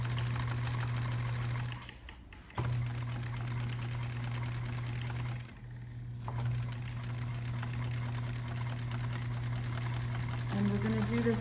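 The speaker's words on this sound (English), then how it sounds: "she's going to sew half the tape on one side of the seam" A sewing machine stitches tape along a backpack seam, its steady motorized hum running close and continuous, dipping for two brief stops before carrying on.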